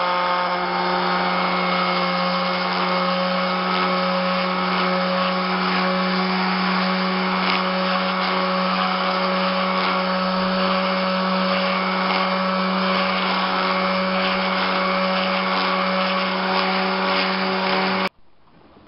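A power tool grinds glue and wood off a custom knife handle, a steady loud whining drone with a constant pitch that runs unbroken for about eighteen seconds, then cuts off abruptly near the end.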